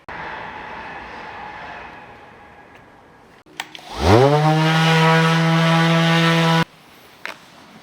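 Power sander running on a gel coat repair patch after filling a hole, spinning up with a rising whine and then holding a steady loud drone for a few seconds before cutting off abruptly.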